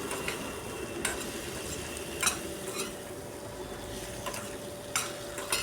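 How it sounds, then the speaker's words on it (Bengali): Okra sizzles steadily over medium gas heat in a pan, with a spatula stirring and scraping at intervals, producing several sharp metallic clinks over the continuous frying hiss. "গ্যাসের হিটটা মিডিয়ামে রেখে ভেন্ডিগুলোকে বারবার নাড়িয়ে ফ্রাই করে নিচ্ছি"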